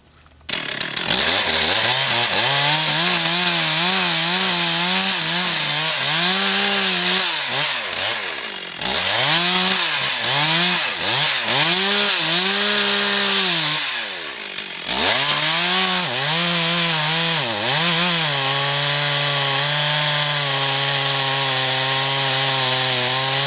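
A chainsaw makes a bypass cut through a tree. The motor snarls loud and close, and its pitch keeps rising and dipping as it bogs into the wood, with two brief lulls between the long cutting passes.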